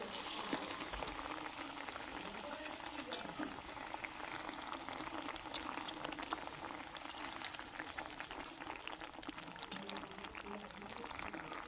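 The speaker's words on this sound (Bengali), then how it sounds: "ঝোলটা ভালোভাবে ফুটে গেছে। এবারে মাছগুলো দিয়ে দেবো।" Fish curry broth with small carp boils at a steady roll, a dense continuous bubbling and spattering that stays close and even throughout with no pauses.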